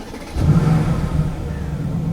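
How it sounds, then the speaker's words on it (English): A Mercedes-AMG GT S with a twin-turbo V8 starts up, a brief crank followed by a deep, rumbling exhaust settling into a steady idle burble, heard close with no talk. "if I just start up the car, you guys can hear the exhaust."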